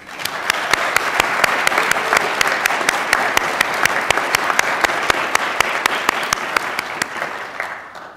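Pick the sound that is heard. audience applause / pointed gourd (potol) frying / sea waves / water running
audience applause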